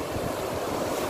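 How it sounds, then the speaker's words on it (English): Ocean waves break on a beach with brown and white sand, a steady close surf roar mixed with some wind noise. "The waves, baby."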